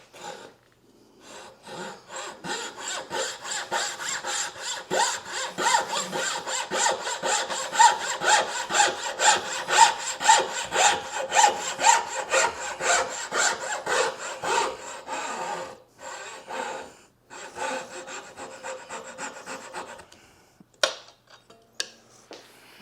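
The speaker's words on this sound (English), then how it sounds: "I'm going to go ahead and use a saw to get rid of the waste on this one." Hand saw cutting off waste wood while building a simple display shelf, with steady rhythmic back-and-forth strokes for about fifteen seconds, a few pauses, then some lighter knocks and scrapes at the end.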